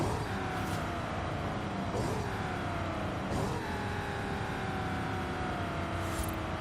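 A Ford F-250 Lariat Super Duty truck engine in the racing game Forza Horizon 5 drops through several downshifts, its steady drone falling in pitch and then briefly rising at each gear change, heard alone at moderate level.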